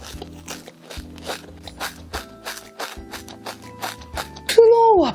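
Waffle bitten and crunched, a string of dry crisp crunches in steady chewing rhythm, close to the mic, with some faint background sound under it.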